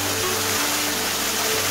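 Gumanpokpo waterfall on Gumansan mountain in Miryang gives a steady, dense rush of falling water, loud and continuous throughout with no talk.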